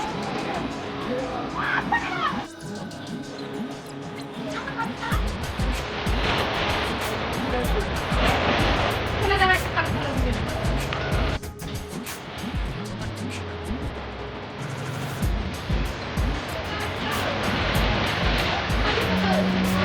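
Sea waves surge and break continuously nearby at Rameswaram, a steady wash of water with faint voices and a low engine hum mixed in.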